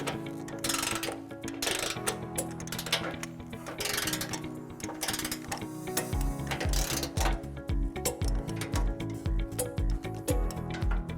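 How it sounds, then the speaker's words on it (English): Socket wrench ratcheting as flange and coupling nuts on a trailer hitch are tightened under a 2021 Tesla Model S, close repeated clicking strokes that settle into a regular back-and-forth rhythm. "Now we're going to tighten and torque all of our remaining nuts to the manufacturer specification."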